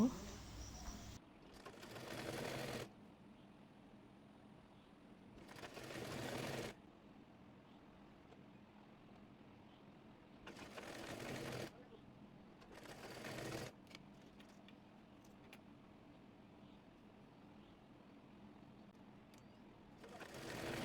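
A sewing machine stitches fabric for a round-neck dress in short bursts of rapid whirring, four or five runs of a few seconds each separated by pauses, with a quiet room in between.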